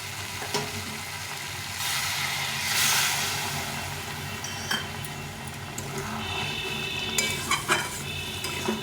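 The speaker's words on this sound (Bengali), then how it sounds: "আলু ফুলটা কষানো হয়ে গেছে এখন আমি একটু জল দিয়ে দিই" Water poured into a pan of frying potato and cauliflower curry, raising a steady, swelling sizzle with clinks of a utensil against the pot close by, no speech.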